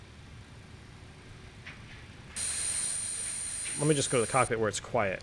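Loud steady high-pitched tone from a flight simulator sound plugin, an XP sound pack in an MD80 airliner sim, starts partway through and drones continuously, with someone talking over its later part.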